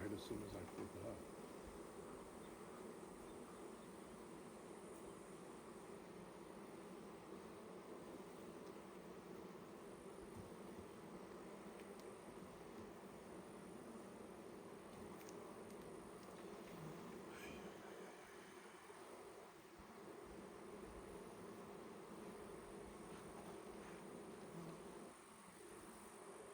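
Honeybees buzzing around an opened hive during an inspection, a very faint steady hum continuing for the whole stretch, with low rustling and handling noise underneath.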